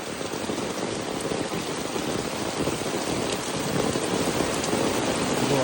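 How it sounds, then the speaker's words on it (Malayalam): Heavy monsoon rain pours steadily near a pond among coconut trees, a dense continuous hiss that grows slightly louder toward the end. "മഴ ഭയങ്കരമായിട്ട് കൂടിക്കൊണ്ടിരിക്കുക."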